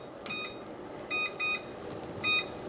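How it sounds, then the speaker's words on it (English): A kitchen timer chirps as it is set during cooking, giving several short, high, clear electronic beeps in small groups over a faint steady background hiss. "Let me set my timer so I don't forget."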